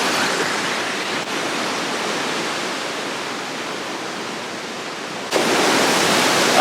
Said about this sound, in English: But I want to show you how much water comes out of this cave.